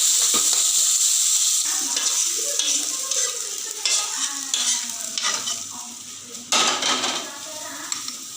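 Curry leaves and mustard seeds fry in hot oil with a loud crackling sizzle, with spoon scrapes and metal clinks against the pan and a few bursts of spattering.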